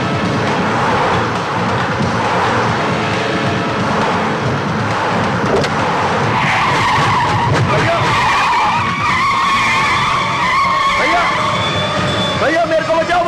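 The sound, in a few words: car arriving with tires skidding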